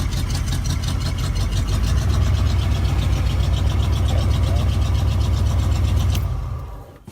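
A Ford Bronco truck with an exhaust problem rumbles steadily on a short drive, its deep, loud engine note holding close before it cuts off abruptly near the end.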